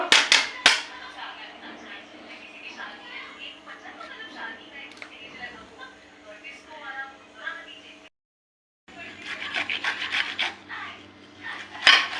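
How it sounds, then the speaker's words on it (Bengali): A coconut rubbed against a hand grater in a home kitchen, giving steady rasping scrapes with sharper strokes at the start and after a short pause near the end, close and fairly loud. "এখন নারকেলটা ঘষে নেব।"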